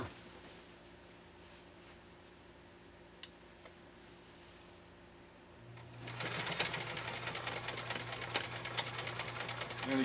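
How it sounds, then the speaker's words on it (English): A PFAFF Hobby 560Z sewing machine fitted with a Schmetz leather needle stitches a super wide zigzag. A quiet lead-in gives way after about six seconds to a steady, close, rhythmic mechanical whir that runs on to the end. "Sewing this real super wide zigzag pattern."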